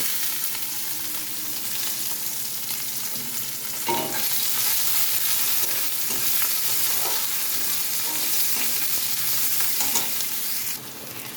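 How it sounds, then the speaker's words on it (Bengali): Onion, tomato and cooked rice fry in a pan with a continuous close sizzle, broken by repeated scraping stirs from a spatula, moderately loud throughout. "এখানে পেঁয়াজ টমেটো ভাত এটাকে ভালো করে ভেজে নেব"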